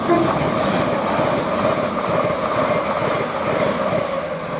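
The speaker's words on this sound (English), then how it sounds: "We've got a pair of 387s from King's Lynn to London King's Cross." A pair of Class 387 electric trains running from King's Lynn to London King's Cross pass through Stevenage station at rush hour, a loud, steady rushing roar of wheels and motors close by, without talk.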